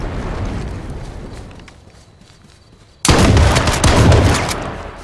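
Gunfire in a battle royale video game: a burst of loud, rapid shots erupts suddenly after a quieter stretch of fading noise, continuing as dense close firing to the end.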